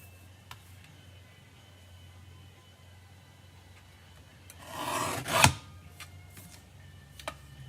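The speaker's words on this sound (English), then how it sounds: "So I'm going to go ahead and trim on the marks that I just made." Paper trimmer slicing cardstock along marked lines, a short rasping glide of the blade lasting about a second, close and fairly loud, in an otherwise quiet room.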